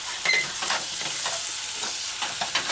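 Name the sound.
stirring cabbage chicken stew in pot with vinegar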